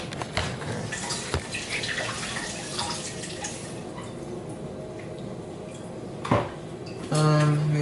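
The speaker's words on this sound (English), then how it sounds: "Let me wash my hands." Hands washed under a running kitchen tap, with water splashing and dripping amid light clatter of dishes and utensils, close and moderately loud, ending in a steadier rush of water and a brief hum.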